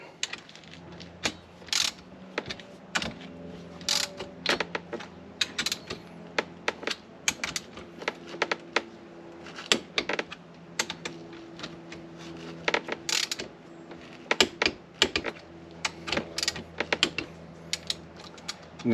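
A Harbor Freight torque wrench ratchets a connecting rod bolt in irregular bursts of sharp, close clicks over a steady low background, with no speech.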